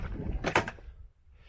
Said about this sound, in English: Sorry, just open this door.